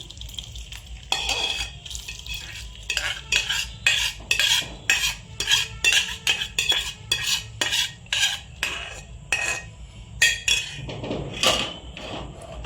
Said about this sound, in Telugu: ఇప్పుడైతే నేను ఒక షేప్ ఉన్న బౌల్లోకి అయితే వేసుకుంటున్నాను